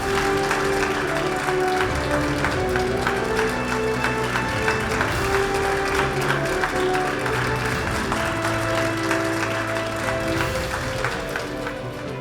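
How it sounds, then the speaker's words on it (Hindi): A crowd at a Diwali celebration in Kashmir applauds steadily to welcome the Lieutenant Governor, sustained and dense, with music or a tonal drone underneath. "बहुत सारी तालियों की गड़गड़ाहट के साथ उनका स्वागत होना चाहिए।"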